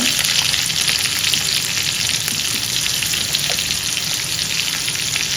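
Curry leaves, chilli and garlic dropped into hot oil with bloomed cumin for kevla aamti, giving a loud, dense, continuous sizzle that stays close and even for the whole stretch, with no voices.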